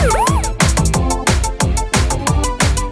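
A kids' cartoon car song in which singing voices imitate a police car siren with a repeated rising-and-falling wail, carried over a bouncy, loud, rhythmic musical backing throughout.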